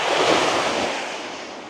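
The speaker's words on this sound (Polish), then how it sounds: "tego szumu słychać morza, nie?" Sea surf breaks steadily on a beach where seals lie and swim nearby, a continuous near wash of waves with some wind buffeting the microphone, swelling early and easing off slightly.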